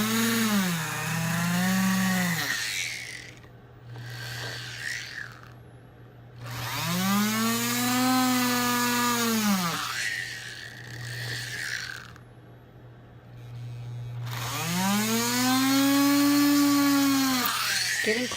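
A rotary burr cutting a seat into a faceted stone setting for flush setting, a steady high whine that rises and falls in three long swells as the tool works, close and alone.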